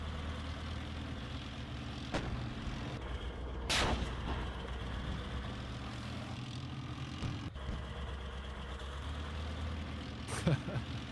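Tank cannons fire in a military video game, with a few sharp, booming shots spaced seconds apart over a low rumbling engine drone and occasional talk.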